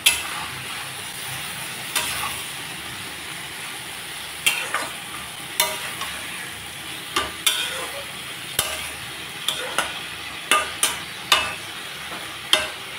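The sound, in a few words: chopped tomatoes frying in a pan for tangra fish curry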